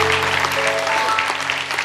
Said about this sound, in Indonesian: Kasih tepuk tangan tuh jemaat kita